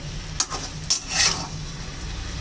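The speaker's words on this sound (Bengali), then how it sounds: "এখন খুব ভালো করে কষিয়ে নেব, কষাতে কষাতে আর একটু সিদ্ধ হয়ে যাবে।" Mixed vegetables with radish and pui shak (Malabar spinach) being sautéed in a pan, a few scraping stirs over a faint continuous sizzle, close by.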